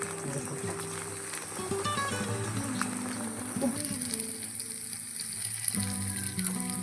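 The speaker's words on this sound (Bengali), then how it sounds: "ভাজা হচ্ছে বড়া ভাজা এগুলো তো হয়ে গেছে মোড়ো ফুলের বড়া" Pumpkin flower fritters frying in hot oil, a steady crackling sizzle running throughout with some clinks of a utensil in the pan.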